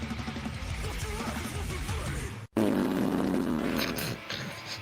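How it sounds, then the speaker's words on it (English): A long, loud fart sound effect, a buzzy flapping rasp that cuts off briefly midway, then resumes with a fuller, lower blast before fading out. "Whatever could we do here with a fart sound?"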